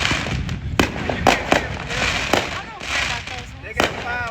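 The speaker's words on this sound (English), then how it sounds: "They got fireworks on the SUVs over here in the grass." Fourth of July fireworks set off from SUVs on a grassy area near a park crack and pop repeatedly, several sharp bursts close by, while people talk over them.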